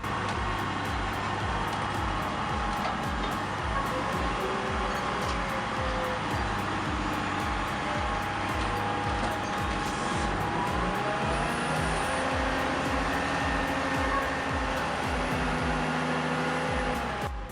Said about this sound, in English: Wow, it's lifting the entire load of logs from the truck at once.